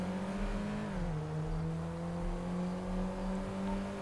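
Engine of a car in the FiveM game revving steadily, a loud continuous drone with a slight pitch drop and rising tone, alone with no talking.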